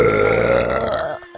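A long, loud human burp rolls on for over a second, voiced and gurgling, then trails off into a brief quieter tail.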